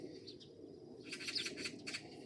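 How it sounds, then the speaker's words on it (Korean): Magpies calling outdoors in a rural Korean yard, a few faint, harsh chattering bursts at a distance against a quiet background. "웬 까치가 저렇게 많이 왔어?"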